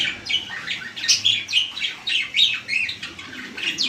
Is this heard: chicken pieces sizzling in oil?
no